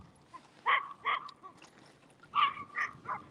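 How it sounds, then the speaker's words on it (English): A large cocker spaniel barks outdoors on a walk, giving two pairs of sharp, moderately loud barks with a pause between them. "Huge cocker spaniel"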